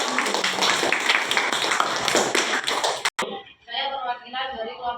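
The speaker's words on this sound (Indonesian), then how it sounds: "Semua beri tepuk tangan dulu untuk kelompok 3." A sixth-grade science class in an Indonesian micro-teaching lesson claps for a group: about three seconds of busy, close hand clapping that cuts off abruptly, followed by a student starting to speak.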